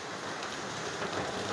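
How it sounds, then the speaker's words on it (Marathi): Heavy monsoon rain pours down on a flooded road near Murbad, a dense, even roar of drops hitting water and hard surfaces, steady throughout with no voices. "जोरदार पाऊस चालू असल्यामुळे जागोजागी पाणी भरले आहे."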